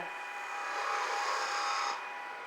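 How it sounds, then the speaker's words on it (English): A skew chisel shaving the sides of a spinning wooden baby rattle on a lathe, a steady close-up hiss of cutting that swells in the middle and then eases off. "So I have to shape the sides to get to nice clean wood."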